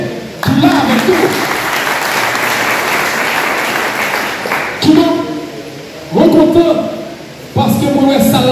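Audience applause at an honorary plaque ceremony, a broad crowd clapping steadily for several seconds, then fading as voices speak over it and brief bursts of clapping return between the talking.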